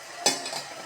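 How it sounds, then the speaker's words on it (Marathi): Tempering spices sizzle in hot oil, with a short burst of crackle and a brief clink of a utensil against the pan over a steady hiss. "फोडणी तर दिली आहे मी."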